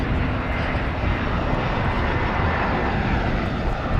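A fixed-wing airplane passes overhead at DFW Airport on a busy Saturday afternoon, its engine roar loud, broad and steady for the whole stretch with no talk.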